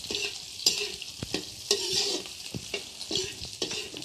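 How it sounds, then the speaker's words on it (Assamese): A spicy stir-fry sizzles in a pan while a spatula stirs and scrapes it in repeated sharp strokes, close and fairly loud, with no talking. "জাল ভাজি বনাই আছে"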